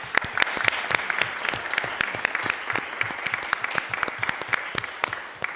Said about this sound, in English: I see Annie's clapping because she's finally here